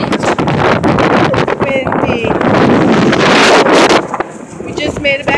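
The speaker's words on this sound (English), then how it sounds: "Always this part is windy." Strong wind buffets the microphone in loud, rumbling gusts, briefly easing near the end.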